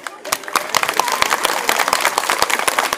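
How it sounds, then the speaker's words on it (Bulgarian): Applause from a comedy audience in Bulgaria, a burst of claps with distinct sharp hits building to a steady patter, fairly close and loud, with no speech over it. "Много ви благодаря за аплодисментите"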